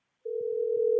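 A steady telephone dial tone starts abruptly after the caller hangs up and then holds at an even, moderately loud level.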